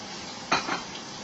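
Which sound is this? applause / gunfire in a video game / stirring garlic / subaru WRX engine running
stirring garlic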